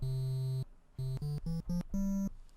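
A soft, mellow triangle-wave chiptune synth from the magical8bitplug2 plugin plays a handful of low bass notes, one long tone followed by several short ones, with no other sound.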